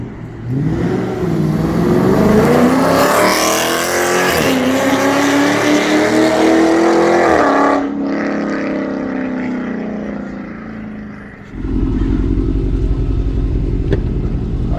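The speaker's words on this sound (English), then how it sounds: "But if you're flowing it down the street, this thing sounds like a NASCAR." A Dodge Scat Pack V8 with active exhaust roars loudly and up close as it accelerates hard, its pitch climbing through gears before dropping off, then settling into a deep, rumbling idle.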